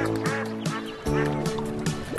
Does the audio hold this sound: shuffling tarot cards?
no